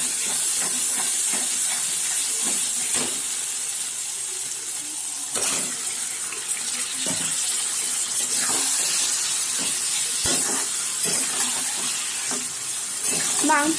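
Chicken meat dropped into hot oil-released fried spice paste for Bengali chicken kosha, sizzling with a loud steady hiss and scattered clatters of a spoon or pan, with a voice speaking over it.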